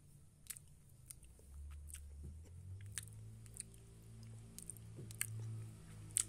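Crunchy Richwell Choco Malt chocolate-cream biscuit being chewed close up, with a scattering of faint crisp crunches and soft mouth sounds at irregular intervals over quiet background hum.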